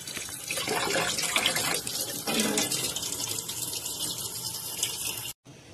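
Running tap water over soaked dishes in a sink, a steady splashing stream for about five seconds before it stops abruptly.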